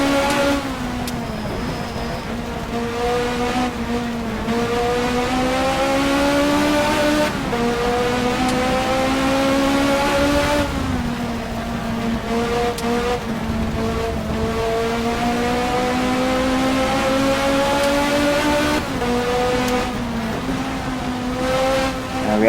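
BMW and Toyota touring cars racing in Race 07, with loud, close engine whine climbing through the gears, dropping at each shift and rising again in repeated cycles, with no one talking over it.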